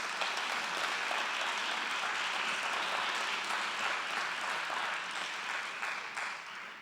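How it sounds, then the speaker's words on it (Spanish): An audience at a mental health conference gives sustained applause for the doctor opening the session, a full, even wash of clapping that holds steady and then gradually fades. "un aplauso para el doctor Pedro Ruiz"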